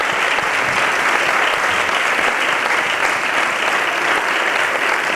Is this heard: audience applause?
yes